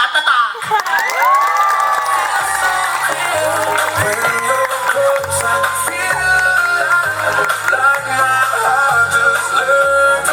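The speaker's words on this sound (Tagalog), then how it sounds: "At lahat kayo ay maghanda ng sangkatutak at sandamakmak na palakpak" Audience at a Macho Gay 2026 coronation night pageant in Tubod-Dugoan claps and cheers continuously under loud music, with whoops and shouting voices mixed throughout.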